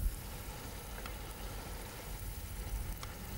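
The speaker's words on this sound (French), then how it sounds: "Alors on laisse colorer les oignons un petit peu." Onions browning in a pan for lamb navarin give a steady, soft sizzle of frying, close and continuous with a few faint stirring scrapes, no voices.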